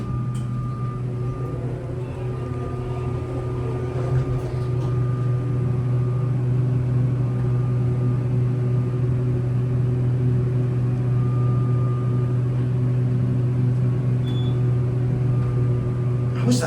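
Fan running inside a small Montgomery or Kone hydraulic elevator cab, a steady low hum and drone with a faint tonal whine, continuous and fairly close throughout.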